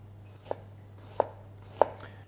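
Three crisp knife strikes of an onion being finely chopped on a board with a claw grip, spaced evenly about two-thirds of a second apart, close and clear over a steady low hum, with no talking.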